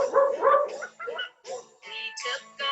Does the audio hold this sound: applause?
no